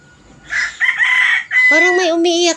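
A rooster crows loudly and close by, one long drawn-out cock-a-doodle-doo with a rising, strained ending, no talking over it.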